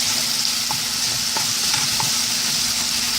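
Yam and sardine frying in a pot for a Jamaican dish, giving off a loud, continuous sizzle with a few light clicks and taps from stirring.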